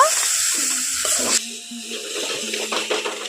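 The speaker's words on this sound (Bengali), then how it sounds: "আবারও এখানে আমি একটু জল দিয়ে দেব" Water poured into a pan of gram flour frying in oil for a kundri dish: a loud, rushing splash for about a second, then a softer bubbling sizzle with small clatters.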